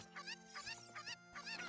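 Chickens cluck in repeated short bursts in The Sealed Palace video game, fairly close and alone, with steady rhythmic calls spaced through the moment.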